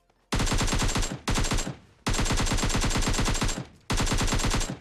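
An unscoped AKM assault rifle fires in PUBG Mobile, fast loud automatic bursts of sharp cracks separated by brief pauses, four bursts in all, with no talk.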